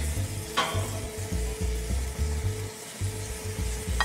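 Pork tenderloin on a grill, basted with apricot glaze, sizzles steadily at close range, with a few soft clinks and scrapes of the basting tool over the hiss.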